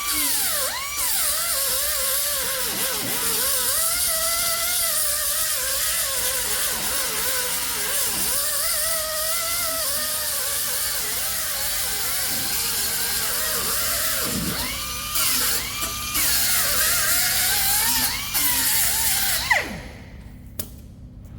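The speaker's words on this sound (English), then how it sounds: "grind all the sharp edges off the top of the blade" An angle grinder working the top edges of a steel excavator blade in a workshop, a continuous high whine with shifting pitch as the disc bites the metal, then stopping near the end.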